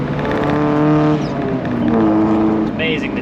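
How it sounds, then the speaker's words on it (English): A Mazda Miata with a valvetronic exhaust and its valves open gives a loud, raspy drone that swells and dips as the engine revs, heard close by, with a voice briefly over it. "Now Shane's car is so egregiously loud and then so normal with the valves closed"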